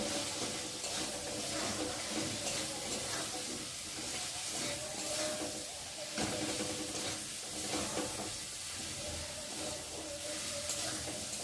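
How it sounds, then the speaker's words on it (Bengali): Spice paste fries with potatoes in a pan, making a soft, steady sizzle and hiss that stays close and fairly quiet. The sound carries faint stirring scrapes and continues without talk. "একটু ভালো করে আলুর সাথে মশলাটা ভালো করে ভেজে নিই"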